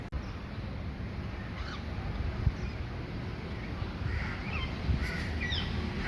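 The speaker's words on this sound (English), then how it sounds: "The birds making delicious noises." Outdoor ambience in Georgetown with scattered bird calls, including a few harsh crow-like caws, over a steady low rumble of distant traffic.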